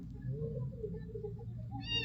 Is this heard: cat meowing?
yes